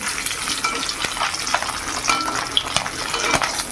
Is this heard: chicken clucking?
no